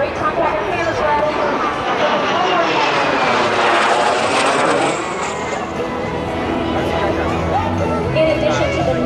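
A T-33 Shooting Star jet makes a knife-edge pass from left to right at an air show, a loud, broad roar that swells toward the middle and stays strong as it passes.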